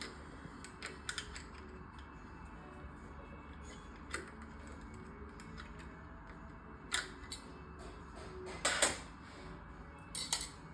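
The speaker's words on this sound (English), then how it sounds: "Remove the inner and outer foot." Inner and outer presser feet being removed from a Solent sewing machine, heard as scattered faint metallic clicks and ticks with a few sharper snaps near the end over a quiet background.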